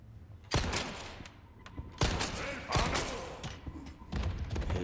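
Gunfire and heavy impacts in the PS5 game Resident Evil 4 Remake, with several loud, broadband bursts at irregular intervals and thudding hits between them.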